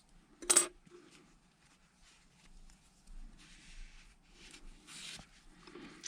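Scissors snip through the yarn tail of a small crocheted dinosaur keychain: one sharp, close cut near the start and a fainter second snip later, with quiet handling rustles between and no talking.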